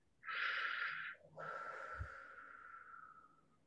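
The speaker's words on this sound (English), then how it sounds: "Deep breath in. And deep breath out." A close, airy breath is drawn in and then let out in a long, soft exhale that trails away, quiet and alone.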